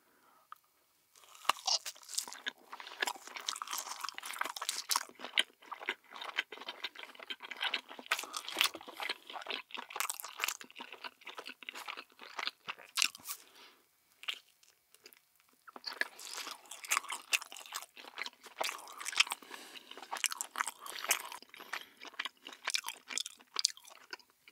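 Crunchy potato cheese balls being chewed close up for a mukbang, with steady dense bursts of crisp crunching and biting that pause briefly around the middle before resuming, no talking.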